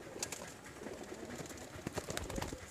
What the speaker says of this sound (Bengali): এটা হচ্ছে নর পায়রা।